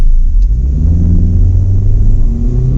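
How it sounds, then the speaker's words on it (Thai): A Toyota Veloz engine roars steadily at full throttle, a deep sustained rumble that holds loud and close throughout with no voices. "นี่เรากดเต็มคันเร่งนะครับ"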